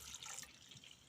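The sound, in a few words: water poured into cooking pot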